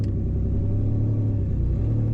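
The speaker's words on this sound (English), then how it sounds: "either the exhaust is leaking really bad up here towards the front, or it's not connected at all" Leaking or disconnected exhaust on a Ranger truck rumbling underneath while driving: a steady, deep, droning low rumble with a rough throb, close and continuous, with no talk.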